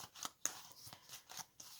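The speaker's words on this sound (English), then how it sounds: "So I'm just going to shuffle" Tarot cards being shuffled by hand, heard as close, quiet, rapid riffling bursts with short pauses between them.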